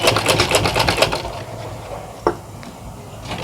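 A sewing machine top stitches a side slant pocket in a fast, even rattle for about a second and a half, then stops, leaving a quiet pause broken by a single sharp click.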